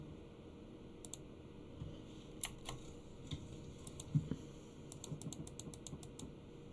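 Sparse, faint clicks from a noisy computer keyboard tap out irregularly, a few keystrokes at a time, in an otherwise quiet room.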